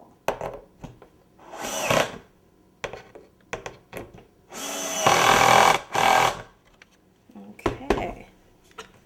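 Power drill driving into a cake board for a tiered St. Patrick's Day cake, heard in several short bursts with one longer steady whir near the middle, close and fairly loud, with quiet handling noise between.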